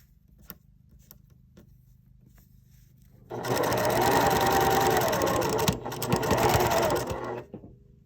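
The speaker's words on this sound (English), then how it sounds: "Set my stitches, and then I'm just going to sew all the way around." Sewing machine stitching around the waistband of a skirt made from a men's shirt; a few soft clicks, then a loud steady whirring run of stitches for about four seconds with a brief hitch before stopping.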